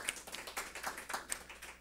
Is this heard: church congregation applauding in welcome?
yes